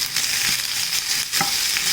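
Sliced onions sizzle and fry steadily in hot oil in a pan, with a constant close crackling hiss and a few faint stirring scrapes.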